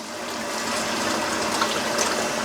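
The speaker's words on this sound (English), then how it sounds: "we want to rinse these until that water runs clear." Cold tap water runs steadily over grated potatoes being rinsed clean of starch, a constant close splashing rush with no breaks.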